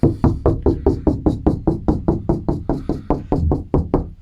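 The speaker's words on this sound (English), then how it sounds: "And these doors, if I tap on it" Someone raps steadily and rhythmically on a garage patio door, about four knocks per second, each tap sharp and hollow, up close with no talking.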